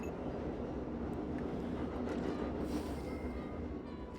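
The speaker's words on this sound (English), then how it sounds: "what you're hearing right now is a train that goes right outside my apartment" A train passes right outside an apartment, heard as a faint, steady low rumble and broad hiss that holds evenly for the whole few seconds with no talking over it.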